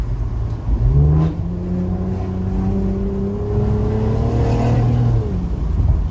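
An Infiniti Q60 engine revs up and settles through a modified exhaust, a deep throaty rumble rising and falling in pitch, loud and close, with no voices.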